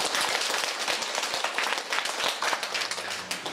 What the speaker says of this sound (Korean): 최선을 다해가지고 발표해 주신 어, 분들에게 우리 힘찬 박수 한번 주십시오